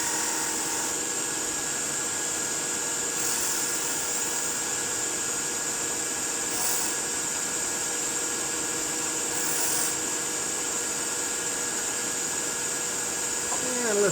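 Wood being turned on a lathe to round over a small bead on a birdhouse ornament, a steady close rubbing, scraping hiss with a constant motor whine running evenly throughout.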